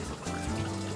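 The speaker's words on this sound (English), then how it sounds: "Filling up every single tank we have" Water runs steadily as it fills the tanks aboard a sailboat, a close, continuous gushing hiss for the whole moment.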